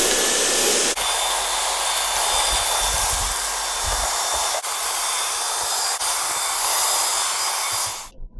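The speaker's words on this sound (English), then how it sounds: "So let's start hoovering this up and we'll see what's underneath." Close, steady whine and hiss of a vacuum cleaner hoovering inside a second-generation Firebird, starting abruptly and running continuously with brief dips as the nozzle moves.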